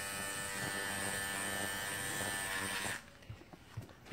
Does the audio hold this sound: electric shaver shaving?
yes